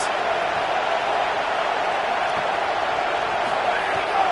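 A stadium crowd at a college football game between Cal and UGA roars steadily on a big third down. The sound is a loud, continuous wash of cheering with no breaks, and no one speaks over it.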